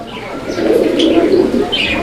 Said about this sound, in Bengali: চমৎকার আরও এক জোড়া কবুতরের কালেকশন রয়েছে এটা হচ্ছে লক্ষা কবুতরের একটা জোড়া